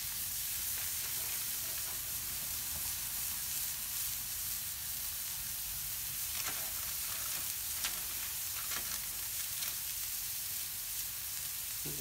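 Food sizzles on a Kamado Joe grill, a steady, bright crackling hiss with occasional sharper pops, continuous and fairly close for the whole stretch with no talking.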